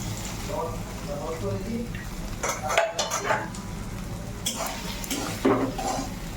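Semolina stirred in a frying pan with fried potato, papaya, lentils and spices, giving soft repeated scraping and clinking of a utensil against the pan over a low sizzle, with a voice talking throughout.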